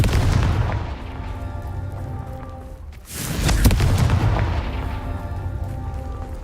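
A Confringo blasting spell goes off in Hogwarts Legacy as a single heavy booming explosion midway, framed by a rumbling low background of game ambience.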